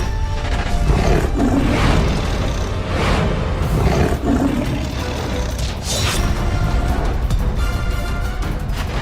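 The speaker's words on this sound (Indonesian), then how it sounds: "Macan, macan." A tiger roars loudly and continuously in a dramatic horror-series scene, deep rumbling growls swelling in repeated waves over a dense, booming background.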